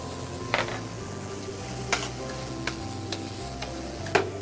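Jalapeños sizzle in a reducing sauce in a French skillet, a continuous close hiss broken by sharp periodic clicks of a utensil against the pan.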